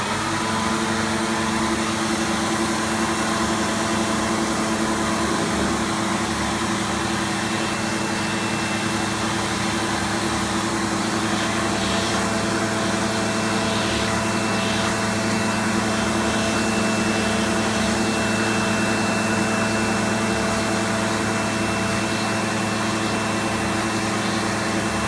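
Vacuum cleaner running steadily while cleaning stairs, a loud, constant motor whine and airflow hum that holds unchanged throughout, with no voices.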